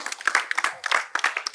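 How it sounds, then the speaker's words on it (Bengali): Brief burst of clapping from a small audience at a medical college quiz competition, close and uneven, rewarding a contestant's correct answer. "জোরে হাততালি ওর জন্য"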